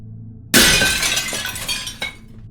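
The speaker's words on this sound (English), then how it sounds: "the crash of breaking glass cut through the storm" Glass crashing and shattering during a storm: a sudden loud smash followed by a long scatter of tinkling shards, then a second sharp crack as pieces keep falling, heard alone without voices.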